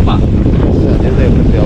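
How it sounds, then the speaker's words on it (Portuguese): Strong wind gusts batter the microphone at a riverside campsite on the Paraná River, a loud continuous roaring rumble that fills the whole clip. "Olha que ventania!"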